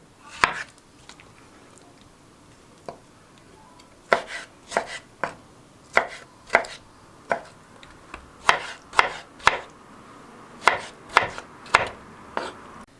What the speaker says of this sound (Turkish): Şimdi kabuklarını soyduğumuz domateslerimizi küp küp doğrayalım.